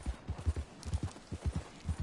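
Hooves of a white Arabian horse clip-clopping in a steady rhythmic gait within a video game, close and clear with no other sounds.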